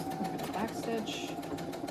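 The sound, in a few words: sewing machine back stitching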